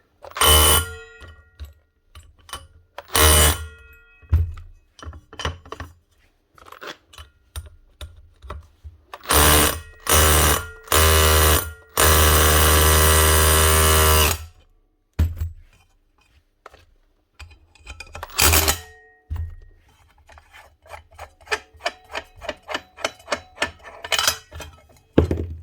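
An SDS hammer drill in hammer-only mode, fitted with a bit cut flat at the tip, knocks a rusted, jammed nut off a 9-inch angle grinder. It gives loud, repeated bursts of rapid hammering, one long sustained burst, then short stuttering taps.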